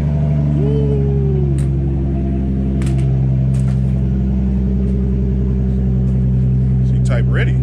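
A car with heavy damage idles before being driven, its engine giving a loud, steady low rumble close by, with a brief higher whine early on and a few faint clicks.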